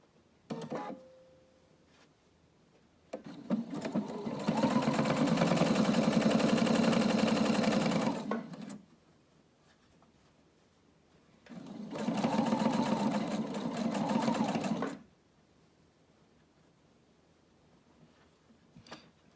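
Sewing machine top stitching a fabric face covering, two long bursts of rapid, even mechanical stitching separated by a pause, close and fairly loud, with a brief click before the first run.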